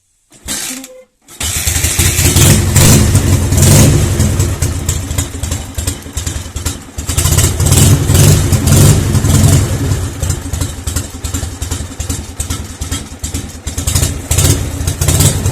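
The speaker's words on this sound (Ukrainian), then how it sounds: "Двигун уже прогрітий. Але заводиться, повірте, на холодну і на взагалі прекрасно." A Dnepr MT motorcycle engine, already warmed up, starts after a brief pause and then idles loudly and close by, with an uneven, throbbing chug and occasional surges in revs.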